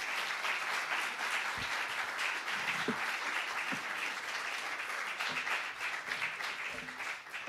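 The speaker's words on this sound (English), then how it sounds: "Round of applause for both candidates." Sustained applause from an audience at a 2017 Seattle candidates forum, steady crowd clapping filling the room for the full duration with no speech over it.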